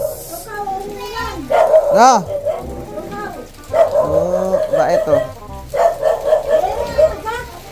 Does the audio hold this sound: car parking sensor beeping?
no